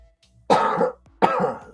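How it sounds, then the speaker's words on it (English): Two harsh, close coughs from a man, evenly spaced less than a second apart, loud and alone without any talking. "Hopefully I can get this cough cleared up by tomorrow."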